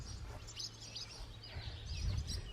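Small birds chirp and tweet faintly in scattered calls inside an abandoned Kentucky church with busted-out windows, over a low rumbling background.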